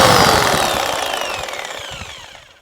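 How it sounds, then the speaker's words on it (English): A Russian-brand reciprocating saw cuts with a rapid rattling buzz and a whining pitch that slides downward, lasting under three seconds and dying away quickly as the blade slows. "the Russian Sawzall"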